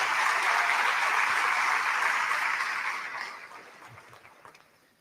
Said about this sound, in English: Let's give them a big round of applause for their amazing work.